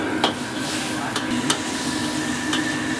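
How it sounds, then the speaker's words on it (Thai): Pork, potato and carrot strips being stir-fried together in a hot pan for Shanghai-style chili pork, with a constant soft sizzle and a few sharp scrapes and taps of the spatula, close up and without speech. "แล้วก็เอาหมู แล้วก็มันฝรั่ง เส้น แล้วก็แครอทเส้นลงผัด ผัดให้เข้ากันก่อน"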